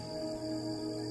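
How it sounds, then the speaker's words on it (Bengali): Crickets chirp at night in a steady, continuous trill, a faint droning layer with no other sounds over it. "ঝিঝি ডাকছে কাছে দূরে।"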